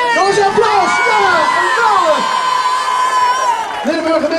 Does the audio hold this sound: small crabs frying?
no